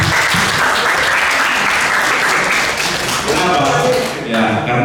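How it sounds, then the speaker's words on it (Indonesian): An audience at a coffee-business talk breaks into loud, sustained applause, many hands clapping together, with a voice talking over the clapping toward the end. "Beri tepuk tangan dong."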